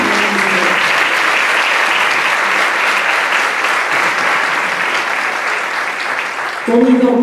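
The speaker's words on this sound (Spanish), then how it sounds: "A mí me gustaría pedir un aplauso para Tony Carmona, que forma parte también de la comisión." A theatre audience applauds Tony Carmona with dense, steady clapping that holds for about seven seconds before a voice starts speaking over its tail.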